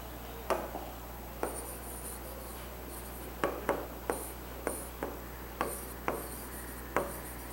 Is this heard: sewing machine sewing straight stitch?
no